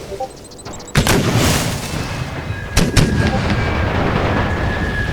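Loud artillery booms in a Napoleonic battle game, a sharp cannon report followed by two more blasts and a sustained rumbling roar of battle.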